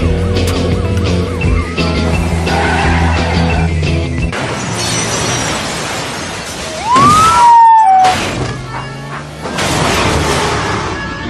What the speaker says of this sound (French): la suite d'un des plus gros films réalisé entre autres, produit par Luc Besson. Il s'agit bien sûr de Taxi 2 avec ce carambolage énorme en voiture de police